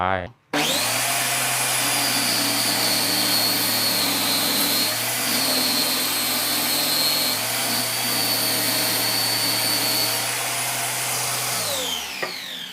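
A circular saw with a new blade whines steadily at high pitch for about twelve seconds cutting wood, a loud, continuous motor roar with a brief start and a tapering stop.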